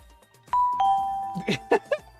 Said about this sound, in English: Stop ringing the doorbell.